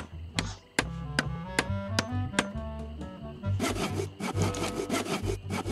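A saw cuts wood in the pirate adventure game LeChuck's Revenge, first a series of separate, evenly spaced rasping strokes, then a faster, continuous run of back-and-forth sawing, close and loud.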